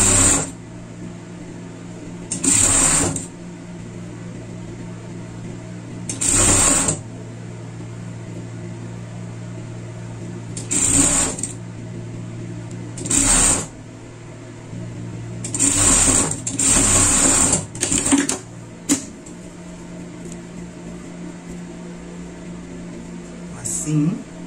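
A sewing machine stitching a seam in short loud bursts of rapid whirring, separated by pauses with a low steady hum, close to the microphone, with a person speaking in between.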